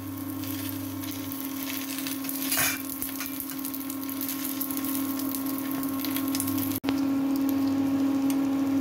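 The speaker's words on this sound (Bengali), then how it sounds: "এভাবে চেপে চেপে নিতে হবে, চেপে চেপে ভাজতে হবে" Mughlai paratha frying in hot oil on a tawa and pressed down as it cooks, a steady even sizzle with a low hum beneath, one brief louder squish and a sharp click near the end.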